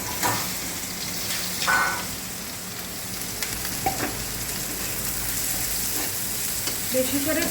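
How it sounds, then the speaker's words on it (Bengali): Papad and cumin fry in a pan with a soft, continuous sizzle. Occasional stirring clinks and scrapes break into it at a close, moderate level, while rain falls outside. "একটু পাপড় জিরা ভাজা করছি"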